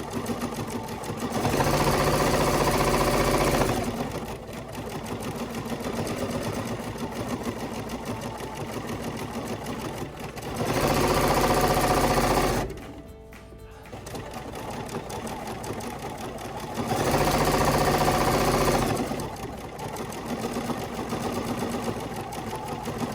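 A sewing machine stitching free motion quilting on solid fabric, its needle motor whirring in three steady bursts separated by quieter pauses and a brief near-silent break, close and clear with no talk.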